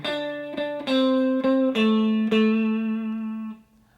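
A guitar plays a repeated fretted pattern once through. Clear picked notes ring in a steady sequence with sustained harmonics, stepping down in pitch before the last note fades.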